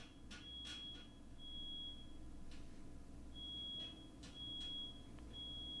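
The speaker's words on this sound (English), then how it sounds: "my neighbors have set off the smoke alarm again" A neighbour's smoke alarm beeps faintly through the wall in a house, giving thin high-pitched tones in short repeated bursts and longer steady stretches over a low background hum.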